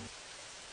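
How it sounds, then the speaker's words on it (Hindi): Rain keeps falling steadily in the morning after days of heavy downpour, a soft, even hiss of drops that stays faint and constant with no voices. "सुबह उनकी आंख खुलती है तो अब भी बारिश हो रही होती है"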